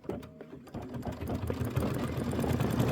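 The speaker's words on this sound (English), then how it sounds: "see how it's stitching down the very center?" Kimberbell embroidery machine stitching a bicycle quilt block, a rapid, even mechanical needle patter that starts after a brief pause and runs steadily at close range.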